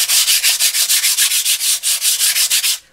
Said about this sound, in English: run a little bit of sandpaper over it